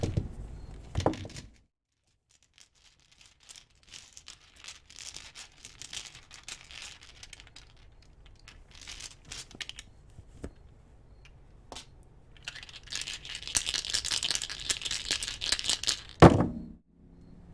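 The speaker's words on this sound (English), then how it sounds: "So let's get some tarot dice. These are kind of loud" Tarot dice clatter and rattle across a surface in several short bursts, with quiet shuffling and handling noises between them, ending in one louder knock.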